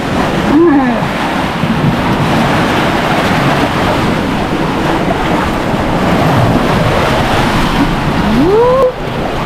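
Ocean waves crash continuously on a rough coast with a loud, close, unbroken surf roar, while a couple of high voices call out briefly over it.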